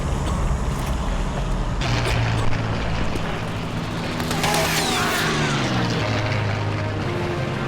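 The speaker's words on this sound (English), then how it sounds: "those are Stuka's attack planes" Stuka dive bomber attack planes in the video game Enemy Front roar overhead as a loud, continuous engine drone, with a rising then falling pitch as one passes close, over heavy battle ambience.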